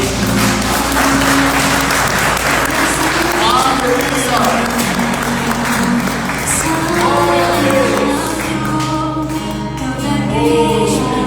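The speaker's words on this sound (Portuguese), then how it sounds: "Aplauda o Senhor" Church congregation applauding the Lord at a Sunday service, a loud continuous wash of clapping under music and a voice speaking over it, filling the whole stretch.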